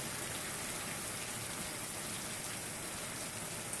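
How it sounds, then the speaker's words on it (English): Heavy rain falls steadily, a dense broadband hiss without pause or change in level, with no talking. "it's absolutely pissing down"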